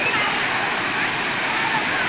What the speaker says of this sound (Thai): นี่ก็เป็นภาพบรรยากาศน้ำตกห้วยแม่ขมิ้นจังหวัดกาญจนบุรี